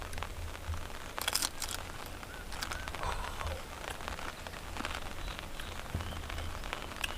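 Steady rain falls across a surface, a dense crackling patter that holds evenly throughout, with a few brief sharper crinkly bursts near the start and middle, no voices present.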